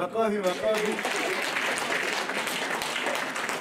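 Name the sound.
crowd applause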